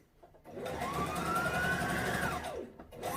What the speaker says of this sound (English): I'll stitch a smaller allowance closer to the seam of the pocket